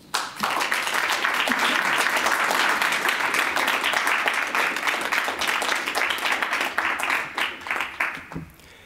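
An audience at a Berkeley poetry reading applauds to welcome poet Arthur Sze, a dense sustained burst of clapping that starts abruptly, stays loud for about eight seconds, then thins out and fades.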